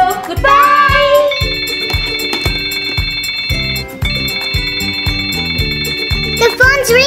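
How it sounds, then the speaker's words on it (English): A toy telephone in a children's pretend-play laundry store rings with a repeating electronic melody over a steady rhythmic beat, loud and close, lasting several seconds with no talking over it. "The phone's ringing again."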